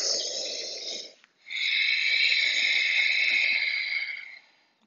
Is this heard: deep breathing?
yes